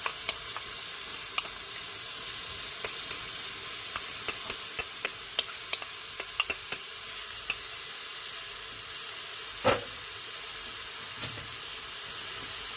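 Steady hot-oil sizzle of chopped onion and blended garlic frying for couscous, a constant hiss with scattered small pops and crackles, close by and continuous.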